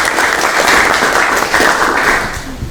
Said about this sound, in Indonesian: tepuk tangan untuk Ahmad